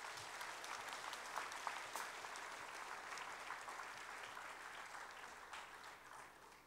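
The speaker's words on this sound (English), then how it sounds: "Please join me in another round of applause." Gala guests at a formal evening event give a sustained round of applause, a dense even wash of clapping that eases gently toward the end, soft and somewhat distant, with no talk.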